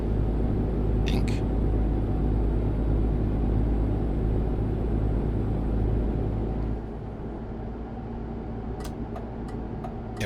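Renault Premium truck with an ISX12 G engine cruising at 80 km/h in top gear in Euro Truck Simulator 2, giving a steady low engine drone and road rumble throughout, with a few faint clicks near the end.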